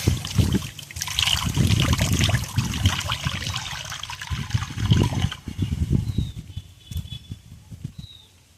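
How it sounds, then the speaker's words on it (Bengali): A little water is poured into a wok on a stove while making a fig (dumur) bhaji, giving close, uneven trickles and splashes that grow thinner and more scattered toward the end. "কড়ার মধ্যে অল্প জল দিয়ে দেবো।"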